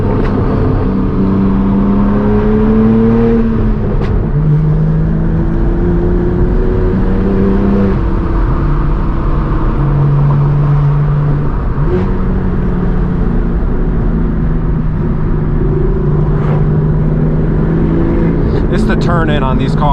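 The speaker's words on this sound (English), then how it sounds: "This Huracan sounds amazing in front of us." Lamborghini Huracan supercar engine droning ahead on the road, heard from a chasing straight-piped BMW M4 G82, with steady engine tones rising and falling throughout and a person talking over it.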